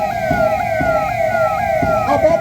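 A police 112 emergency response vehicle's siren wails steadily and loudly, its rising and falling tones repeating in a regular cycle as it passes the saluting dais during a Republic Day parade at a police lines ground.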